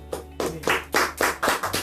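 Audience at an Indonesian youth talk event clapping in quick, evenly spaced bursts, about seven sharp claps close by and fairly loud, with no talking over them.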